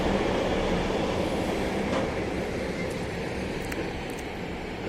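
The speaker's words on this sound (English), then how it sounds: "Let's wait for the train." A train rolls past in the countryside, a steady broad rumble that stays loud and even throughout with faint rail noise on top and no talking.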